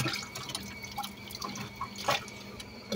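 Water is sprinkled over homemade laundry soap, likely in a Miele washing machine, producing scattered close drips and light splashes in an irregular patter without talking.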